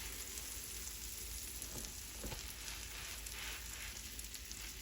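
A cheese sandwich on Ezekiel bread sizzles steadily in a hot pan, an even, crackling hiss that holds for several seconds with faint pops and no talking.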